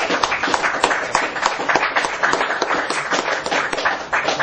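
An audience claps together for several seconds after being invited to applaud themselves at a gathering, the dense, steady patter of many hands filling the room at close range with no talk over it.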